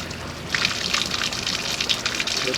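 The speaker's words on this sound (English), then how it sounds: "It's siphoning the water back down into the reservoir" Water siphons back down into the reservoir of a portable fish egg eyeing station after the pump is switched off, making a soft, close, continuous gurgling trickle with small splashy bursts.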